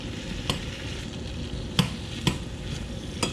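Vegetables being stirred and coated with olive oil for a curry, a steady soft rustle and scrape with a few sharper clicks of the utensil against the pan, close and fairly quiet.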